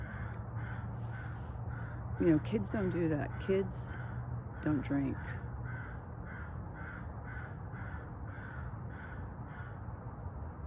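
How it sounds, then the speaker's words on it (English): A crow caws outdoors in a short run of harsh repeated calls, then a second pair a moment later, at mid distance under a person talking with a steady low hum behind. "That crow's still going."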